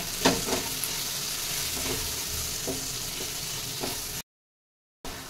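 Dry spices, kitchen king masala and salt, sizzle in a pan for soya pulao while being stirred, with repeated scraping strokes over a steady fry. The sound cuts out briefly near the end and then resumes.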